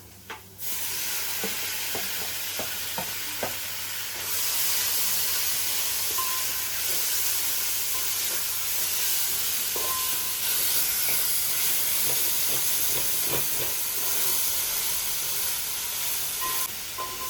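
Onions, tomato, ginger and garlic frying in a pan for a chicken liver dish, giving a steady loud sizzling hiss with occasional small clicks and clatter, continuous throughout with no talk.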